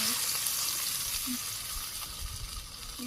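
Okra fries in hot oil with a constant bright sizzle close by, while faint utensil clinks and stirring sounds surface now and then.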